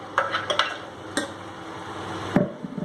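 A spoon stirs ground spinach masala into a hot pan for palak pulao, giving a few close scraping and clinking strokes with a faint frying sizzle beneath and no talking.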